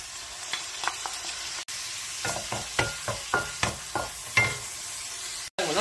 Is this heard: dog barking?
no